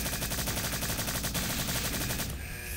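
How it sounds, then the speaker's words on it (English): Rapid, rhythmic gunshots in the video game Strife, a steady stream of evenly spaced shots fired in quick succession, cutting off near the end. "So might as well shoot them while I can."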